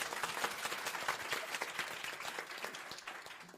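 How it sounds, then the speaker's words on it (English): Faint, distant applause from an audience at a women-in-law society event, a soft steady patter of clapping that tapers off toward the end. "please give a round of applause"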